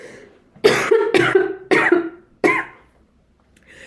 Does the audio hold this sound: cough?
yes